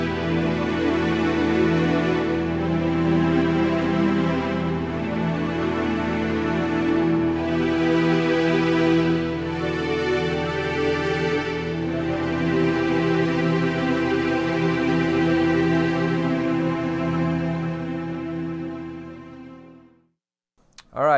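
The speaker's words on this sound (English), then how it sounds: "here's some really rich, big, and fat strings" A lush, sustained synth string pad from a Roland GR-55 guitar synth swells in long held chords, rich and full, fading out near the end with no talking.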